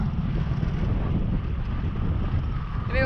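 A boat moves across open water, a steady low rumbling drone with heavy wind buffeting the microphone throughout and no clear voices.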